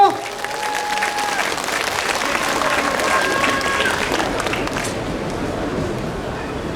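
A rally crowd in Seomyeon, Busan, applauds loudly and continuously to welcome a lawmaker to the stage, with cheering voices mixed into the dense clapping, holding steady before easing slightly near the end.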